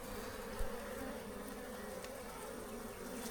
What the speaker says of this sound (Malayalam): എല്ലാം ചുറ്റുപാടും ഇരുന്ന ഈച്ച എല്ലാം അതിൻ്റെ അകത്ത് കയറിയിട്ടുണ്ട്